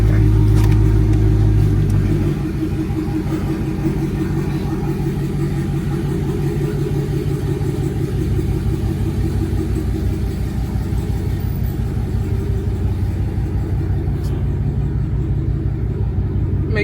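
A Dodge Challenger SRT Hellcat Redeye's supercharged engine rumbles and revs loudly while driving, a heavy, steady low roar close by with no talk.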